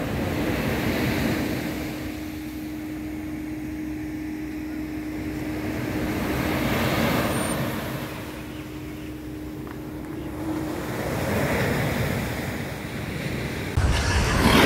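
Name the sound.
ocean waves at Pantai Cahaya Bulan beach, Kelantan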